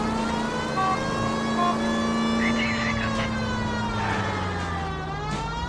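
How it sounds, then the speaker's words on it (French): Police car siren in the video game L.A. Noire, a steady wailing tone sounding continuously and close, over a low engine rumble with no speech. "Il y a déjà ma sirène qui marche sans arrêt."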